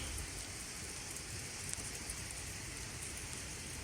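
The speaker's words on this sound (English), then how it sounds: "It's raining." Rain falls outdoors as a steady, faint hiss of dense drops, continuous and even throughout with no voices over it.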